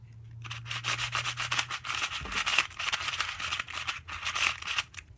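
A Moyu magnetic skewb puzzle, sandy and tight, is turned rapidly by hand, giving a continuous gritty rubbing and scraping with quick irregular bursts, close up, while a low hum sits underneath.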